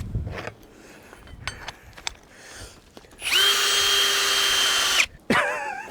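A power drill whirs loudly at a steady pitch for about two seconds in a home kitchen, then stops and briefly revs again, after a few quieter knocks and clicks.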